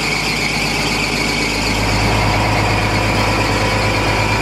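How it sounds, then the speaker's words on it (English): Worn engine belts squealing on a running truck, a loud, steady, shrill whine over the idling engine drone, continuous and close with no talk. "As you can hear from the squealing sound, I've got to replace the belts."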